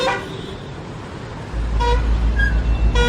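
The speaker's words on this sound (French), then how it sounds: "puisqu'ils m'ont klaxonné, genre je vais pas assez vite" Car horns honk at a truck in Euro Truck Simulator 2, with short tonal toots over steady road and engine rumble that grows louder partway through.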